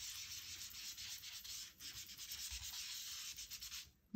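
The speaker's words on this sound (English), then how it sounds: "I'm going to ink up my sponge again." Steady scratchy rubbing, close and continuous, like a sponge being scrubbed across a pad, with no talking.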